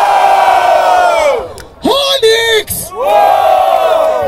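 Crowd at a Brazilian freestyle rap battle semifinal in Barueri roaring and whooping for a rapper's rhymes, loud rising cheers with yells and an amplified voice cutting in midway.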